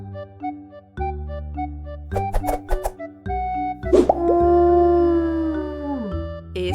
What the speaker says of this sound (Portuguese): Este é o som do lobo,